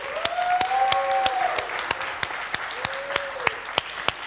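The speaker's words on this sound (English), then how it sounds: "So give yourself a big applause." Audience applause at a startup hackathon event, with individual sharp claps standing out over a steady clapping bed and some whistling or tonal sounds mixed in.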